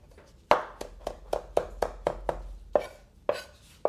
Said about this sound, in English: just a rough chop on that